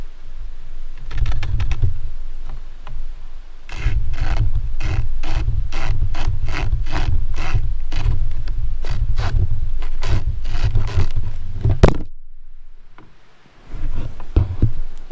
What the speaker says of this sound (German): wie viel Mal muss ich denn hin und her sägen, um hier ein Stück abzusägen